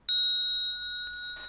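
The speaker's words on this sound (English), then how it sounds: "we have a yin qing, which has a nice bell, nice sound all to it" A yin qing, a small Buddhist hand bell, struck once with a bright clean ring that sustains and slowly fades, heard alone and close, with a faint tap near the end.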